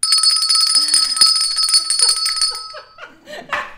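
A bell rings rapidly and continuously for a couple of seconds, loud and close, then stops as people laugh.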